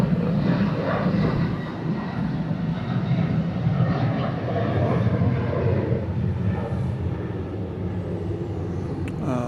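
Boeing 737-900 jet at Atlanta airport, a steady, loud broadband engine roar holding evenly throughout with a low rumbling base and no pauses.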